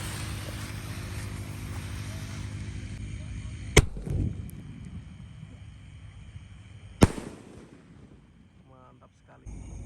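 Large Bima Sakti 5 fireworks go off in two sharp, loud bangs a few seconds apart, each followed by a rumbling decay over a steady background roar, with people talking nearby.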